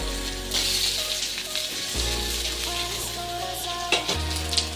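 Onions frying in a pan with rohu fish and potatoes, stirred now and then: a steady, close sizzle with occasional scraping stir strokes, no voices.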